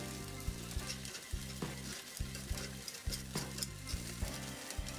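Takoyaki batter sizzles in a professional stainless takoyaki pan on a stove, a constant close frying hiss with faint ticking and popping throughout and no voices.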